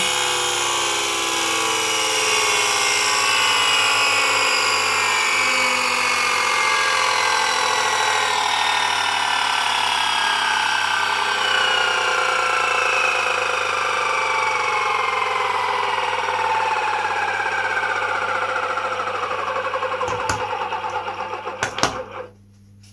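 Electric motor of a Henson's Skye Dog model plane converted to capacitor power runs steadily at high pitch, loud and close, with a whining buzz held for most of the run before cutting off with a few clunks near the end.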